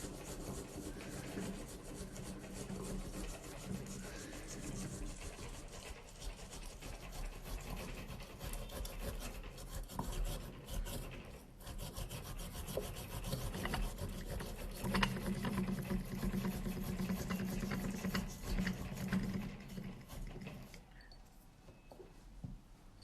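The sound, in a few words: grating fresh ginger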